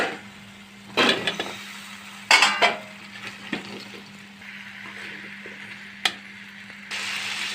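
Taro roots being stirred into a spiced pan with clattering spoon-on-pot scrapes and sharp metal knocks, while a low steady frying hiss and faint sizzle run underneath.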